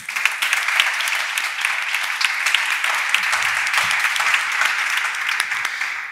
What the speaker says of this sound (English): Please, warm applause for him.